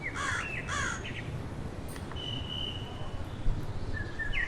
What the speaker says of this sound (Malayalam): കാക്ക കരയുന്നത് കേൾക്കുന്നുണ്ട്.